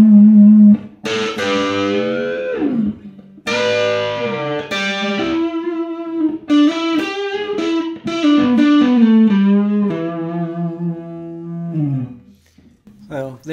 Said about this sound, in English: a little sample of the Thunderdrive in a minimal distortion setting and a more substantial distortion setting